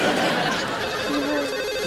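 A telephone ringing indoors as a steady electronic ringtone running throughout, with faint chatter and laughter mixed underneath.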